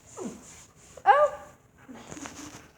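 A happy dog outdoors gives soft whimpering whines and a brief higher yelp-like cry, near and fairly quiet, with faint rustling between the sounds and no clear talking.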